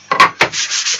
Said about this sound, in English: just give it a little sand all the way around